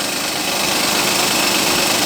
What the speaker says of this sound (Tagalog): Nagwa-warm up lang po itong kotse ngayon.